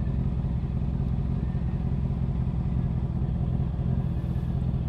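A Honda CB650R motorcycle runs close by with a steady, loud engine rumble and some mechanical clatter, holding an even idle-like drone throughout with no talk over it.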